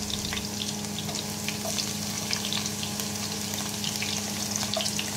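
Ginger and garlic frying in a pan while tilapia with black beans is being cooked, a steady, close crackling sizzle with faint stirring, continuous and even throughout with no talking.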